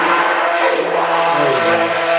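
A stick blender motor whirs steadily while mixing soap batter, a brief continuous hum with a faint tonal whine, close and fairly loud.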